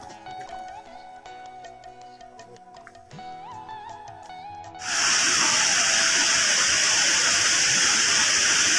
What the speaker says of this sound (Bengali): ক্ষুদে ঝর্ণা আমি নাম দিয়েছি। অল্প জল পড়ছে কিন্তু ভীষণ আওয়াজ